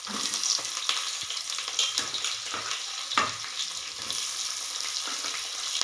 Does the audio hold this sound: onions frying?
yes